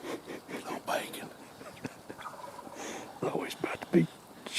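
A wild turkey gobbling outdoors during a public-land spring turkey hunt, heard as a few faint, distant gobbles under hushed speech and rustling.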